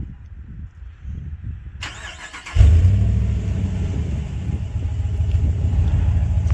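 RAM 1500 with a 5.7 liter Hemi V8 and Solo Performance muffler exhaust cranks and fires up, a brief starter whir followed by a sudden loud deep burbling idle that keeps rumbling steadily up close.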